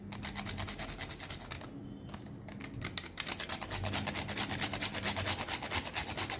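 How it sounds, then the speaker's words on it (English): Whole nutmeg scraped against a grater above a bowl of sugar, a steady close rasping rub that repeats in quick strokes, pausing briefly before resuming faster. "I will grate little bit of nutmeg."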